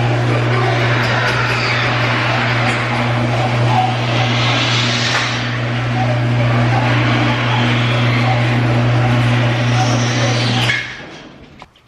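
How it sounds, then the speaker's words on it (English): A chain drive garage door opener runs loudly and close by, a steady motor hum layered with rattling mechanical noise for about eleven seconds before it winds down and stops. "They're chain drive garage door openers, so they sound like this."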